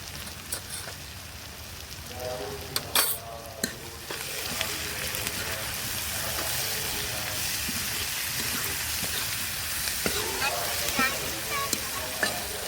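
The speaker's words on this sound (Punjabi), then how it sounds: "ਹਲਦੀ ਮਸਾਲਾ ਭੁੱਜ ਗਿਆ 4-5 ਮਿੰਟ ਲਈ ਭੁੰਨ ਲੈਣਾ" A turmeric and spice masala roasts in a pan for bhindi sabzi, giving a steady close sizzle with light stirring clinks throughout and no talking.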